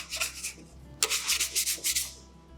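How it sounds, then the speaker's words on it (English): A bench scraper rubs and scrapes bread dough from a bowl in short rasping strokes, a brief pass followed by a pause and then a quicker series of close, scratchy scrapes. "Quickly use my bench scraper, makes it nice and easy to pick up."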